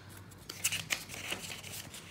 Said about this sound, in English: it's got a little perforated edge for your grocery list. And I'll just rip it off.